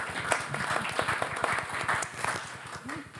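Scattered, modest applause from a small audience at a League of Women Voters candidate forum in Salina, following a candidate's speech; individual claps are distinct and fairly sparse, with faint voices underneath.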